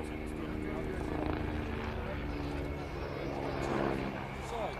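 An Agusta A109BA helicopter of the Belgian Air Component flying a display at an air show, a continuous rotor and turbine drone heard at a distance under a commentator's voice.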